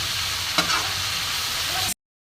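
Spinach stirred and frying in a pan for a vegetarian dish, a steady close sizzle with a brief scrape of the spoon near the start, no voices.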